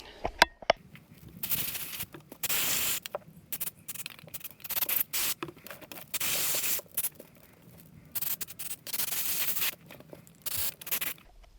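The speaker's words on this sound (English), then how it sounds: "let's clean this off with a spray" Short bursts of aerosol cleaner sprayed on parts of a 1999 Honda RS250R motorcycle, repeated irregularly with pauses between, close up, along with faint handling and rubbing noises.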